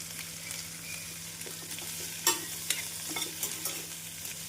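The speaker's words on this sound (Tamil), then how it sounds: "வெங்காயம் பூண்டு சேர்த்து மீடியம் ஃப்ளேமில் 2 நிமிடம் வதக்க வேண்டும்." Onion and garlic fry on medium flame in a pan for a tomato-onion chutney, making a soft continuous sizzle broken by several scraping stirs in the second half, with no talk.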